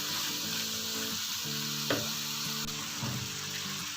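Chicken and vegetables fry over fairly high heat in a pan, giving a continuous close sizzle with soft scraping as they are stirred and mixed.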